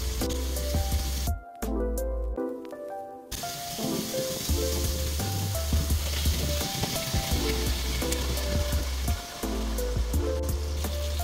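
Sliced garlic frying in a pan alongside pork liempo, giving a loud steady sizzle with crackling and the occasional stir, close and continuous, without talk.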